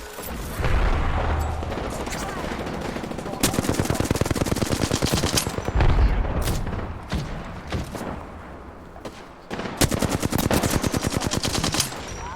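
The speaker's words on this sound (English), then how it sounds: "I don't know if that was him shooting." Gunfire in the video game Apex Legends: loud bursts of rapid automatic fire with heavy thumps and booms, repeated several times with short pauses between bursts, alongside some talking.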